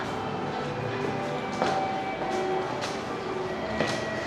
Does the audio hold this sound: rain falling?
no